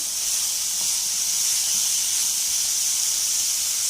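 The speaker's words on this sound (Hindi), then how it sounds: "तेज़ आंच पे फ्राई करेंगे।" Chicken frying over high heat for macaroni, giving a steady loud hiss and sizzle with no pauses and no voices.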